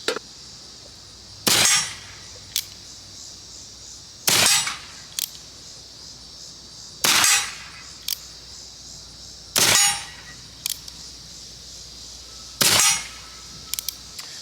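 Handmade percussion caps fire one by one on a revolver's cylinder, producing sharp, loud cracks at roughly three-second intervals, each followed by a short metallic click as the action is worked.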